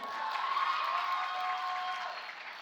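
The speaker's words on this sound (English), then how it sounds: "we're going to give you a real round of applause for being the first one to get up here and make this happen" A live audience applauds steadily at a youth leadership event, a dense wash of clapping that holds for a couple of seconds and then begins to taper, with no voices over it.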